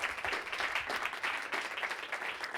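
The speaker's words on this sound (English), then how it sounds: "could I have a round of applause, please, for Stu and Graham?" Steady applause from an audience fills the whole stretch, many hands clapping densely at an even level with no pauses.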